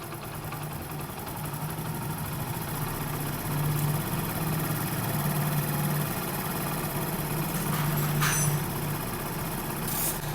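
A Honda Pridor motorcycle engine with an overly rich carburettor mixture idles with a continuous low throbbing rumble, close and constant, with a few brief higher clanks near the end.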